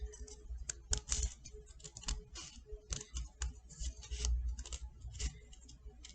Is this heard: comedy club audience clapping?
no